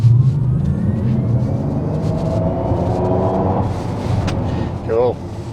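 Synthetic G engine sound from a 2022 Genesis GV60 electric SUV, a steady low droning hum that rises slightly in pitch while driving, heard under ongoing cabin conversation.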